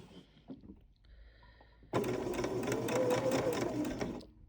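Sewing machine stitching a patchwork quilt seam, starting abruptly after quiet handling noises and then running as a steady fast mechanical whir with rapid ticking for a couple of seconds before stopping.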